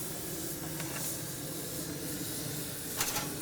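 Soaked wood chips hiss on a barbecue grill beside foil-wrapped baby back ribs, a steady close spitting sizzle throughout with a brief sharper burst of crackle near the end.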